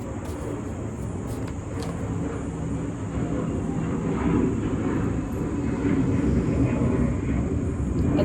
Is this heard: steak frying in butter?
no